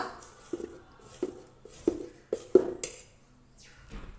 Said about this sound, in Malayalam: ഇനി ഈ മാവ് രണ്ടും കൂടെ നന്നായി ഒന്ന് മിക്സ് ചെയ്ത് കൊടുക്കുക.